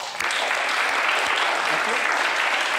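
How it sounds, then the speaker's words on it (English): Audience applause at a hypnosis stage performance, brisk steady clapping from a room full of people throughout, fairly close and loud. "Get a big round of applause."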